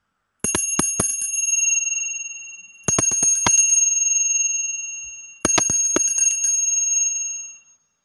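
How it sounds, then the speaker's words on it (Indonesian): A bell rings three times in bright, ringing bursts, each struck several times quickly and left to fade, with short gaps between. "ditandai lonceng berbunyi"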